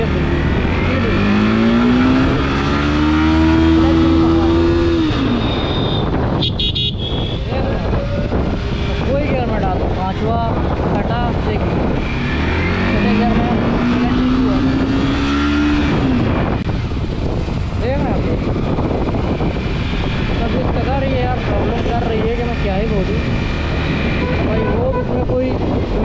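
A Yamaha R15M motorcycle with damaged clutch plates, running in fourth gear. Its engine revs rise and fall in long sweeping pitches, with wind rush and road noise around it, and someone talks at intervals.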